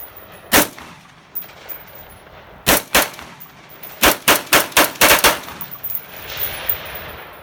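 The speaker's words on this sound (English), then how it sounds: "So let's continue firing." Around ten sharp, loud shots from a Colt A2 rifle: a few spaced single shots, then a quick cluster of rapid fire, with no talking.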